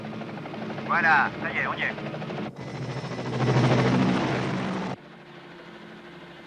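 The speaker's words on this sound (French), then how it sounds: "Il y a un hélicoptère qui se dirige droit sur vous." A helicopter drones steadily with a dense buzzing rotor and engine roar that swells and then cuts off, while someone speaks French over the noise, in a 1984 television action series scene.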